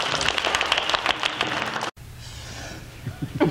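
Audience applause with dense, steady clapping filling the room for about two seconds, then cutting off abruptly to a quieter room tone with a few faint stray sounds.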